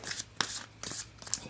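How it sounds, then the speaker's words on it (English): Shaman Oracle cards that are stiff and hard to shuffle are riffled by hand, giving several quick papery bursts with short pauses, close and fairly soft. "These are very hard to shuffle."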